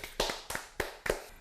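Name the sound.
clapping hands, applause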